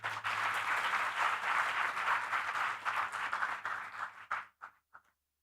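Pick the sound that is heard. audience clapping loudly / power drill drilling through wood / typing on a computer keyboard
audience clapping loudly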